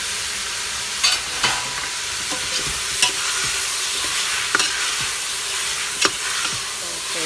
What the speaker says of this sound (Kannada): ಅದೆಲ್ಲ ಹಾಕಿ ಫ್ರೈ ಮಾಡ್ತಾ ಇದ್ದೀನಿ. ಈಗ ಟೊಮೆಟೊ ಆ್ಯಡ್ ಮಾಡ್ತಾ ಇದ್ದೀನಿ.